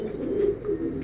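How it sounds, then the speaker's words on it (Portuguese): Pigeons in a loft cooing steadily and close by, a continuous low throaty warble with a few soft swells across the moment. "Olha o pombo do linho aí, ó."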